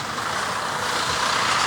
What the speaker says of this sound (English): Be careful with these trucks.